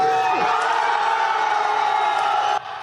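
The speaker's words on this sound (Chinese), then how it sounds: "支持者大声欢呼" Supporters of Taiwan People's Party chairman Ko Wen-je cheer loudly outside a courthouse in Taipei, a dense crowd roar with whoops rising over it, holding steady before easing near the end.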